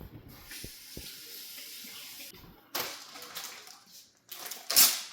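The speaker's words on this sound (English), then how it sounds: "Let me wash my hands." Running tap water splashes over hands at a kitchen sink, faint and intermittent with brief gushes and pauses, ending in a louder splash.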